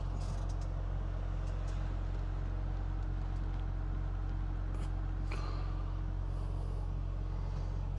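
Cars idle in a long traffic line during a snowstorm, a steady low engine hum close by with faint creaks and clicks on top.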